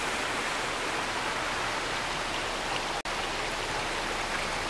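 A small indoor stream in a conservatory flows with a continuous even rush of water, steady throughout apart from one momentary dropout, no one speaking.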